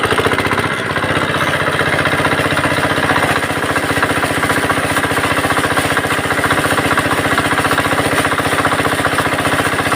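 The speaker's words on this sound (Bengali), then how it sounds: "মেশিন স্টার্ট হয়ে গেল।" A farm machine engine running hard and steady at close range, a loud rapid pounding chug with a dense mechanical rattle that holds constant throughout, with no talking.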